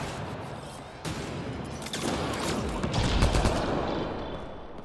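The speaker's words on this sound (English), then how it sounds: "Oh, it's a turret, that's why." Turret gunfire in the video game Mass Effect Andromeda: a dense, continuous barrage of rapid shots and impacts, loud and roughly steady over several seconds, with no voices.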